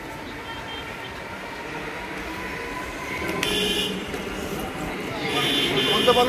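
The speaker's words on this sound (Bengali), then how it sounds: "Napara metro platform." A metro train at Noapara metro station rumbles steadily on the platform, with a bright electronic tone starting partway through and the train noise swelling louder toward the end under general station noise.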